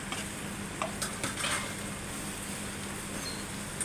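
Onion paste, with garlic paste already in the pan, fries with a soft steady sizzle while a utensil scrapes and taps the pan a few times.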